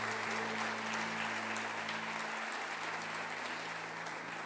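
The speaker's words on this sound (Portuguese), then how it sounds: "Dá um aplauso ao Senhor." Steady applause from a large church congregation, sustained and even throughout with no pauses, over a low hum in the background.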